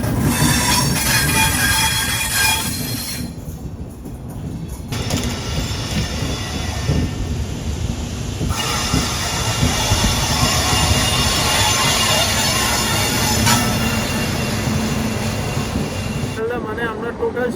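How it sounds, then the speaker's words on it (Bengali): A passenger train pulls out of Ajmer railway station, rumbling steadily with wheel squeal and rail clatter close by, loud and continuous, with faint voices in the carriage. "আমাদের ট্রেন ছেড়ে দিয়েছে আজমের রেলওয়ে স্টেশনের 2 নম্বর প্ল্যাটফর্ম"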